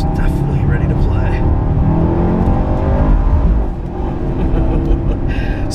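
A 2015 Chevrolet SS runs slow opening laps at a track day. A loud, steady engine drone and tyre whir hold almost unbroken, with a slight dip in the middle.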